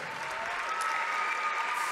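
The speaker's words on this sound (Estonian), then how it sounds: "Aplaus palun meie võitlejale Sander Reemets" A crowd at a kickboxing event applauds fighter Sander Reemets, giving continuous, even clapping that fills the hall, with a faint tonal hum running beneath it.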